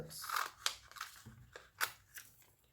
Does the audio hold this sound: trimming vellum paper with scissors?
yes